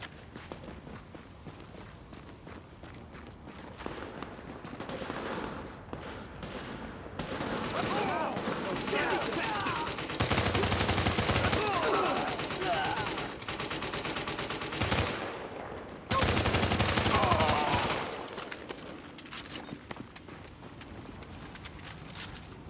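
Gunfire in The Division on Xbox: repeated bursts of automatic shots crackle loudly, with the heaviest volleys in the middle and near the end, over a constant background din.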